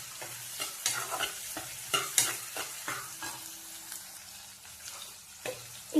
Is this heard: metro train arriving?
no